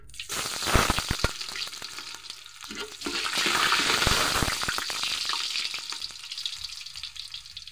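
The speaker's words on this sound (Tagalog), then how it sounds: "isa na tayo pagigisa, bawang" Garlic sautés in a hot pan for pork pochero, a loud sizzle flaring up with sharp crackles and stirring clatter near the start, then settling into a steady hiss with no talking.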